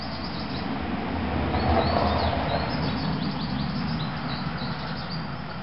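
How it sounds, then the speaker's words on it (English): Birds chirp softly in the background under a broad outdoor wash of distant traffic noise, with faint high tweets scattered across the stretch. "And some happy birds in the background too, which is pretty cool."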